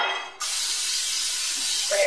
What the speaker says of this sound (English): I'm gonna spray this first because my hands are about to be covered in flour.